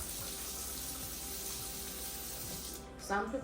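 Lukewarm water runs steadily from a kitchen tap while chapati dough is being made, a continuous even splashing stream that shifts slightly near the end.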